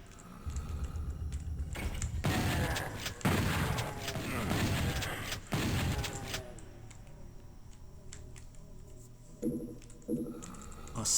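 Shotgun blasts from the video game DOOM 64 fire as a cluster of loud, booming shots, followed by quieter clicks and game noises.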